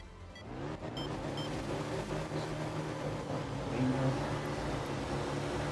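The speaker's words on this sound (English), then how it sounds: "I absolutely love driving this car. It's just the noise, the sound of it" Steady car engine drone from a racing video game, a continuous mid-level hum with a gentle rise in pitch and intensity, heard alone without talk.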